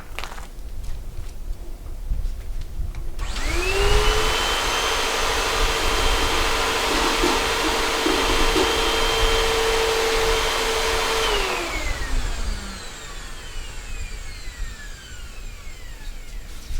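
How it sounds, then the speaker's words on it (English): A small vacuum cleaner cleaning out the pellet hopper of a Z Grill 10002B whirs up to a loud, steady high-pitched whine for about eight seconds, then spins down and fades. "I got my vacuum cleaner out here, and I'm getting it out."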